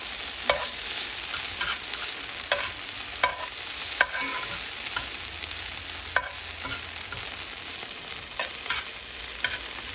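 Tomatoes soften in a hot skillet for Haitian Cajun fusion rice, a quiet continuous sizzle with light utensil scrapes and taps now and then, close by and with no voices.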